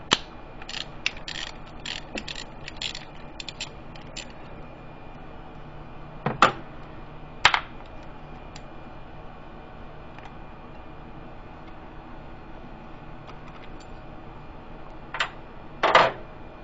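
A ratchet clicks in short bursts while removing 10mm bolts holding the ignition coils on a 2007 Saturn Ion engine, with quick clicking runs early and a few sharp metallic clicks later over quiet background.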